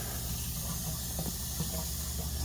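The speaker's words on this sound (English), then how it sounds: "We have running water, guys." Water runs from a freshly plumbed sink faucet in a coffee trailer, a continuous soft hiss and splash held steady and fairly faint throughout.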